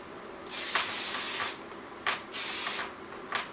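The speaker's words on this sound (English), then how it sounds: "so let's do some spray" Hairspray hisses out in several bursts, a long steady spray followed by shorter puffs, close and fairly quiet with no talking.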